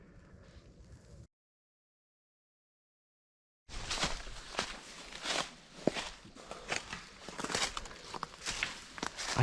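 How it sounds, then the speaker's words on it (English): Footsteps in the woods at night in Florida: after a short faint stretch and a gap of silence, close crunching steps start up in an uneven, shuffling rhythm over leaf litter, fairly loud against a quiet background. "I hope to God my camera picked up those footsteps."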